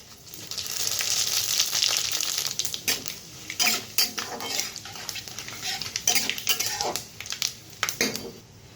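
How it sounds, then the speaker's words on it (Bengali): Dried red chillies and panch phoron hit hot mustard oil for a chalta pickle, a close sizzle broken by clinks and scrapes of a spoon stirring in the pan. "তেল গরম হয়ে গেছে, তো ফোড়নের জন্য আমি প্রথমে শুকনো লঙ্কা দিয়ে দিচ্ছি, দিয়ে দেবো পাঁচফোড়ন"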